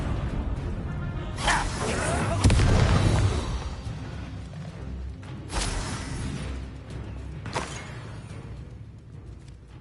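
Magical Confringo blasting spell in Hogwarts Legacy, fired repeatedly in combat: several sharp whooshing bursts, one heavy booming explosion in the middle with deep rumble, then further distinct blasts.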